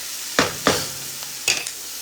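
Onions and garlic sautéing in a pan while cooking jackfruit tacos: a faint steady hiss with a few sharp scraping stirs and clatters spread across the moment, no voices.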